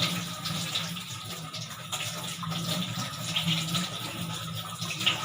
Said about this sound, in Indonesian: Kemudian buka keran menggunakan siku.